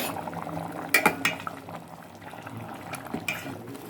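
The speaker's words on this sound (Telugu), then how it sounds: "మూత పెట్టి ఉడికిస్తాను ఫ్రెండ్స్" Curry gravy simmering under a lid in a pan on the stove, a soft steady bubbling hiss with a few brief clinks of the pot, near and fairly quiet.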